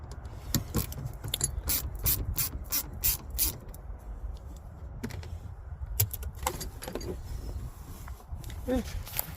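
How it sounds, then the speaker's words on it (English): A ratchet clicks in repeated quick bursts while seat belt bolts are loosened inside a 2006 Dodge Grand Caravan, close and fairly loud, with pauses between the runs of clicks. "And I can unbolt the seat belts."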